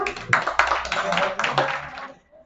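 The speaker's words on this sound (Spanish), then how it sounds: "Un aplauso a la doctora." An audience at a talk claps for a doctor, loud and close, in a short irregular burst that fades out after about two seconds.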